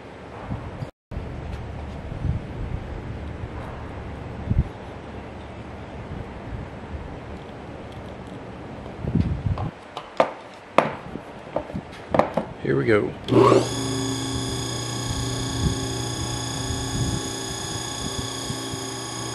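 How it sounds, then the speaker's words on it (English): The open-frame motor and internal fan of an old Frigidaire Multicold refrigerator start after some handling noises, settling into a steady, loud electric hum with a strong tonal drone that runs on alone. "Feel a pretty good bit of air blowing out from that internal fan."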